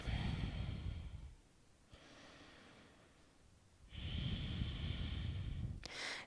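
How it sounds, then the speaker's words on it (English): Slow, deep breathing during a yoga session lying on the back: a long audible inhale, a quiet pause, then a second long breath ending in a short sharp exhale, close and alone. "Breathing into the hands."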